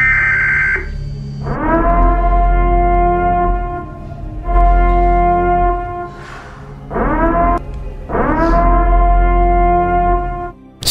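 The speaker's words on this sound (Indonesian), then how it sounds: "Setelah pengumuman selesai, sirine pun berbunyi yang mendadakkan malam Purge dimulai." A siren sounds as a sound effect to mark the start of Purge night: loud, sustained, harmonic-rich blasts that come in long bursts separated by short gaps, with a faint whoosh between them.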